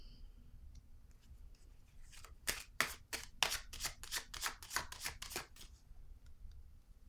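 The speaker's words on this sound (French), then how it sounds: "Je vais déposer une autre carte ici, sur le bouleversement à l'envers." Tarot cards are handled and laid down on a table in a quick burst of crisp, rapid papery flicks and slaps, close and fairly clear, surrounded by quieter rustling.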